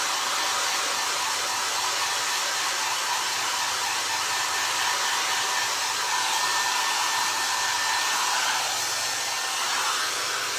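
A hair dryer blows continuously at close range, a steady loud whooshing drone that never pauses.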